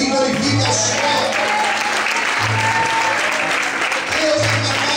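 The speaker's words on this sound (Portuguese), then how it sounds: "Se assim você crê, aplauda e glorifique ao Senhor." A church congregation applauding during a sermon: loud, continuous clapping from many people, steady and full, with low musical tones, likely an organ or keyboard, sounding intermittently beneath it.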